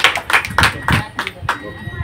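Applause at a church gathering for the opening of a new house: a handful of sharp, bunched clap bursts in uneven rhythm, close and loud, with a voice speaking between them.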